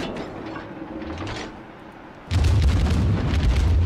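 Main battery shells fired from a warship in World of Warships, a distant rumbling report followed by a loud, sustained booming blast that rolls on to the end.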